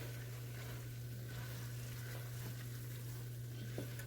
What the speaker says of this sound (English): add a half pound of sliced white mushrooms to it. We'll go ahead and stir that up, coat them evenly